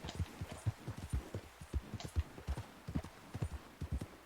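Horse hooves clip-clop steadily during a ride in the video game Red Dead Redemption 2, an even trotting rhythm of soft thuds, fairly quiet and close, with no talking over them.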